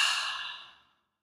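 A single long, deep exhale through the mouth, breathy and close. It starts strong, then fades steadily to silence over about a second, with no other sound.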